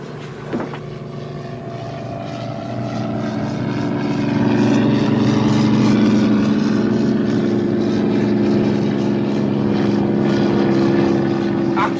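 An American airplane drones overhead, a low propeller-engine rumble that swells louder midway and holds steady, with a brief voice near the start.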